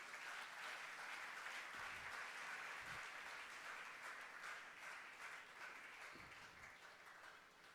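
A church congregation applauds at a Sunday service, steady dense clapping filling the room at even loudness throughout, with no voices rising above it.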